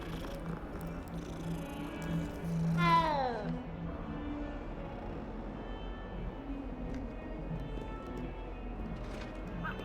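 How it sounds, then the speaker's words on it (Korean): A cat meows once in Hogwarts Legacy, a short rising and falling call near the start over steady game ambience and background music. "고양이."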